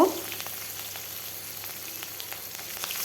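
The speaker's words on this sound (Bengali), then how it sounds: "পেঁয়াজটা লাল লাল করে ভেজে নিতে হবে।" Onions and green chilies frying in fish-frying oil with a steady, moderate crackling sizzle throughout, a slight burst at the start and scattered pops, no voices.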